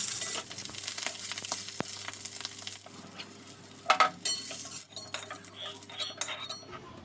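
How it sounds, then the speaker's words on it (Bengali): Potatoes fry in hot oil in a kadai with a soft, steady sizzle, broken by scraping stirs and sharp metallic clinks of a spatula against the pan, louder around the middle. "বাদ বাকি আলুগুলো আছে সব দিয়ে এবারে ভালো করে ভেজে নেবো লাল লাল করে"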